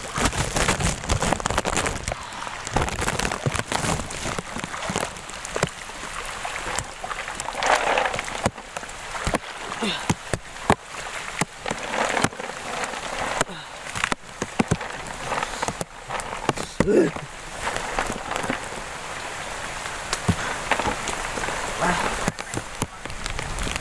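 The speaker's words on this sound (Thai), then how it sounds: "ฝนตก" Steady rain drums on a hard surface close by, a dense continuous patter with frequent sharper drips, running on without pause.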